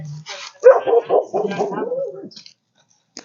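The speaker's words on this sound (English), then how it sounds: "notice how every time you do that, the bark becomes like less energy" Dog at an animal shelter in Magnolia, Texas, giving a run of short barks and whiny yips that rise and fall over a few seconds, close by, then going quiet.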